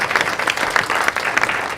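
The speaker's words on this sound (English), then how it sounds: "How about a round of applause for Gale Thank Candaras?" A crowd claps steadily, dense applause filling the room at a constant level throughout.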